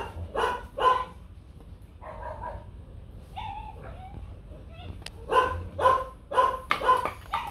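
A five-month-old male Rottweiler puppy barks in short bursts, a pair of barks, then a trio, whimpers, and a rapid run of barks near the end, close and loud.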